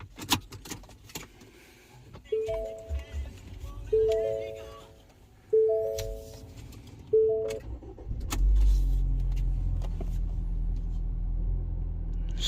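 A 2018 Ford Escape with a ruined engine fires up after a few soft chime tones, its low rumble rising abruptly and settling into a steady, close idle for the last few seconds.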